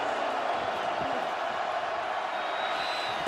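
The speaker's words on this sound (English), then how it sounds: "Crowd again getting loud for Seattle, trying to help this defense out" A stadium crowd roars for Seattle at an XFL football game against Dallas, a dense sustained wall of distant cheering that stays loud and steady throughout.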